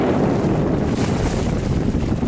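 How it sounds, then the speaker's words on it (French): A constant low boat engine drone rumbles beneath broadband rushing noise of wind and water at sea, steady and unbroken for the whole stretch. "Le bruit du moteur."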